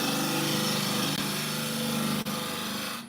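A general-purpose carbide turning tool cutting an olive ash bowl on a lathe, making a loud, steady whirring, rasping hum with one brief catch near the end.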